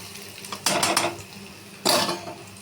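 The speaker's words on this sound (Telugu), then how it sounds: "మనం మూత పెట్టుకోండి మూత పెట్టుకుంటే చాలా బాగుంటుంది" Lid set onto a cooking pot of potato curry on the stove, two distinct metallic clanks about a second apart, the first with a short rattle, close and moderately loud with no talking.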